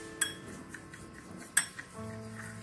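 A spoon clinks and scrapes in a bowl as coffee scrub is mixed with coconut oil, two sharp metallic taps standing out over soft stirring scrapes, close and quiet.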